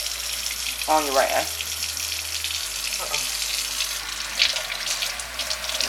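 Tap water runs steadily while a clay mask is rinsed off a face during a skin care routine, a continuous broadband splash with brief surges, and people talk briefly over it.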